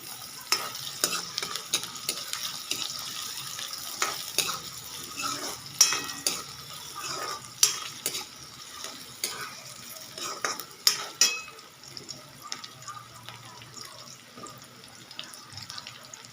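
Chopped onion frying over a low gas flame for dal tadka, a soft steady sizzle with scattered spoon-stirring clinks and scrapes throughout, close and moderately quiet.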